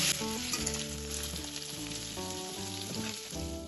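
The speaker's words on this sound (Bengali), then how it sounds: "সবজিগুলো 3 থেকে 4 মিনিট আমি ভেজে নিয়েছি।" Mixed vegetables fry in oil in a kadai, a close, steady sizzle that runs throughout without anyone speaking.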